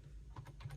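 Typing on a computer keyboard, a short run of quick, faint keystrokes heard alone during setup of an ESP32 board.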